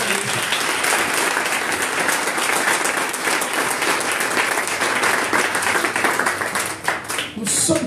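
A church congregation at a French-language sermon breaks into sustained, dense applause that fills the room, with voices calling out over the clapping.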